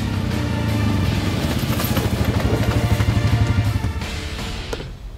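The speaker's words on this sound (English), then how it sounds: "There it is, the Suzuki KingQuad 4x4 750 AXI with power steering." Suzuki KingQuad 750AXi 4x4 ATV engine running close by with a steady throbbing idle and a rhythmic pulse, easing off toward the end.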